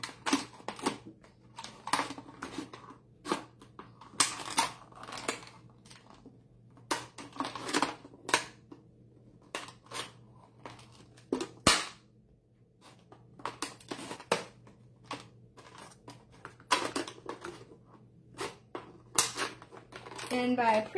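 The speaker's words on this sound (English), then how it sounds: "So I'm just going to cut along that half circle." Scissors snip through a plastic pop bottle, cutting out half-circle shapes for an upcycled birdhouse, a series of close, sharp crinkling cuts in irregular bursts with pauses between them.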